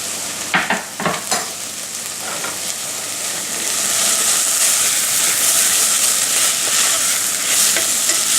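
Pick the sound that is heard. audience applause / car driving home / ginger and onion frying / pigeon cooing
ginger and onion frying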